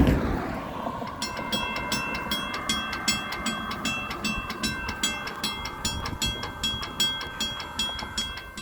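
A train passes the Grantland Avenue railroad crossing in Fresno, California, with a rumbling approach, steady rhythmic clicking of the crossing signal bells, and a sustained high tone throughout, fairly close.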